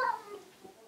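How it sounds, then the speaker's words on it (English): A cat gives a short meow-like cry indoors during a yarn-spinning session, faint and brief under a quiet room background. "I thought that was one of the cats there."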